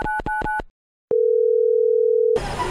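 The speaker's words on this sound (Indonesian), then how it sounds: "mending aku telepon ah" A telephone being dialled: a quick run of keypad beeps, a short silence, then a steady continuous line tone.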